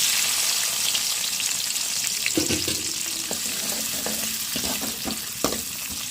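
Chopped onion pieces crackle in hot oil in a home kitchen pan for a dry meat curry, a steady frying hiss with a few sharper clinks and stirring knocks scattered through.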